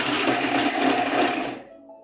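A Thermomix's loud whirring motor grinds steadily through carrot for about a second and a half, then cuts off abruptly, leaving a faint ringing hum.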